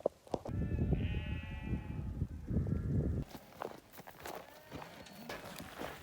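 Sheep near a herder's band in the Wyoming backcountry bleat in a few wavering calls, close and fairly faint, amid shuffling hooves and footsteps on the ground.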